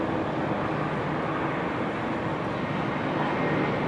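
An Air Europa airliner taxiing at Amsterdam Schiphol Airport on a windy, showery day, a steady broad jet-engine rumble and roar heard from a distance, constant throughout.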